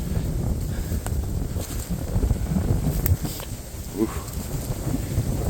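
Cold wind blows steadily across an outdoor hunting area, a broad continuous rush buffeting the microphone, with a brief exclamation from a person partway through.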